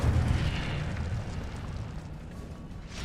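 A fiery Incendio spell bursts in Hogwarts Legacy, a dense roaring whoosh with low rumble that swells loudly at first and then fades slightly over a few seconds, with no voices.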